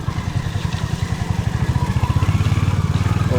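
An off-road motorcycle with big tyres runs nearby with a steady, loud, rhythmic engine thrum that grows slightly stronger toward the end, heard alone.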